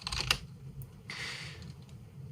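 Typing on a computer keyboard at a Pro Tools workstation during a drum recording session: a quick cluster of close key clicks, then a brief soft keystroke burst, with quiet room tone between.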